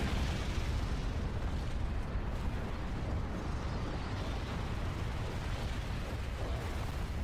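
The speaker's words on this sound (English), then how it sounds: "He couldn't contain the explosion." A sustained, roaring explosion from the anime Mob Psycho 100 in a boss fight, a broad unbroken rumble at a constant loud level that fills the whole stretch without pauses.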